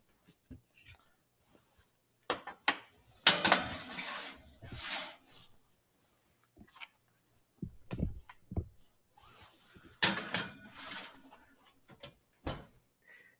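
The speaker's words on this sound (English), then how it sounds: "So these are going to go in the oven right now." Vegan jerky trays go into a home oven with a series of sharp clanks and rattles of metal racks, plus a door thud, close and moderately loud, with short pauses between bursts and faint talk.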